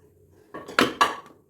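A pressure cooker lid comes off with a couple of sharp metallic clanks as the pot and utensils knock together in a kitchen, close and brief against a quiet background.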